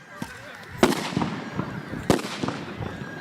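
Two sharp, loud blasts crack out about a second apart during police riot-control training, each with a short rumbling tail, over steady crowd noise and background voices.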